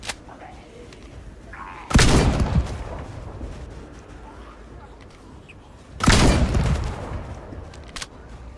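A shotgun fires twice in the zombie survival game Project Zomboid, two loud, close, booming blasts a few seconds apart, each trailing off into a short rumble over low background noise.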